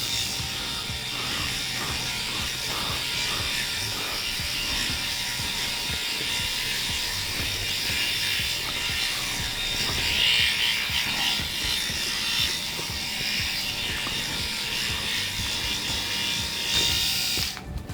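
A Groomie BaldiePro electric head shaver runs steadily close by for the whole stretch, a continuous buzzing hum with faint scratchy rasping as it passes over the scalp, and nobody speaks.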